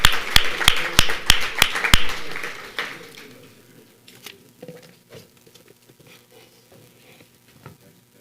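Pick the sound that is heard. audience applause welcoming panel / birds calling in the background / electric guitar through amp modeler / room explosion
audience applause welcoming panel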